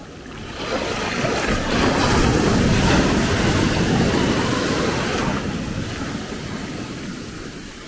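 Atlantic storm Bernard drives ocean waves onto the shore at Maspalomas, Gran Canaria, a broad roar that swells to a peak and slowly fades, with wind buffeting the microphone and no voices.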